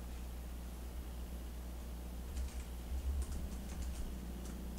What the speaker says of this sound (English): Looks like I'm just typing in a glorified Vim session